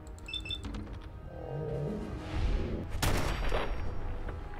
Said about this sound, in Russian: чтобы ему просто с одного выстрела голову разнести